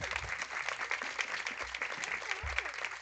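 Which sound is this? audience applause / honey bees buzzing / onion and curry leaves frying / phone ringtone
audience applause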